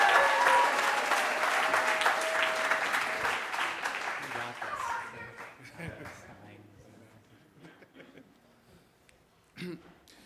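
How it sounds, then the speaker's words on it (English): An audience at a storytelling show applauds as the next storyteller comes up, loud sustained clapping that fades over several seconds, leaving scattered claps, a few voices and a single louder thump near the end. "let's give a huge round of applause to Oscar Sagastume"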